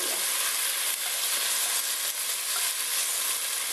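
Onion frying in a pan over medium heat gives a dense, even, continuous sizzle, close and fairly loud, with no talking.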